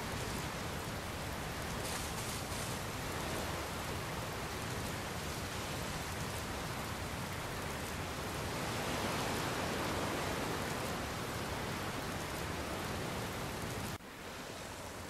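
Steady rain falls in Dragon Quest Builders 2 while a boat sets out to sea, a dense, continuous hiss of drops that holds at an even level throughout and dips slightly near the end, with no talking.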